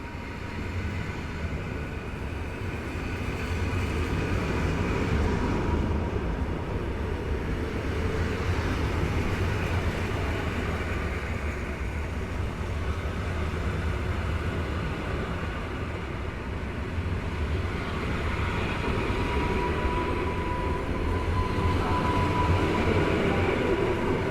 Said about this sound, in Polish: Skład rusza punktualnie, niczym w Japonii.